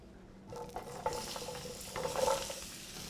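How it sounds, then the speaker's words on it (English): Celery, carrots and onions hit a hot roasting pan still holding pot-roast drippings and break into a close, crackling sizzle, with light stirring scrapes. "We want to brown the vegetables."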